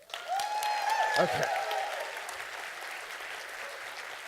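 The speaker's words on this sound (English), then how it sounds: "give me a big round of applause" Conference audience at an arts marketing keynote bursting into a short round of applause, a dense clatter of clapping that rises quickly and fades over a few seconds, with a speaker's brief voice over it.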